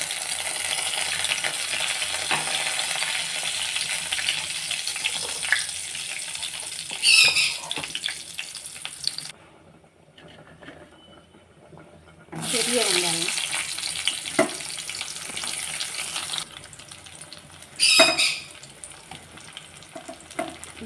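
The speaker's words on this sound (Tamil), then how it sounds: "இந்த பக்கம் எண்ணெய் சூடாகிடுச்சு இந்த கறி மசாலா பட்டை வகையை சேர்த்துக்கலாம்" Whole spices and cinnamon bark frying in hot oil for mutton rasam, a loud, steady hiss and crackle that drops out for a few seconds, then returns, with scattered stirring clinks.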